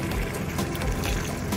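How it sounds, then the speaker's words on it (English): Water poured from a glass into a pot of bolognese sauce, a steady close splash and trickle lasting the whole moment with no talking. "And now we're going to add some water and just pressure cook it."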